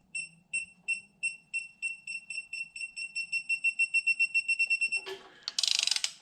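An electronic torque wrench beeps while tightening cylinder head bolts on a 2012 Hemi 1500 engine build. It gives a steady run of clear, repeated beeps that speed up gradually. A hiss-like burst follows at the end.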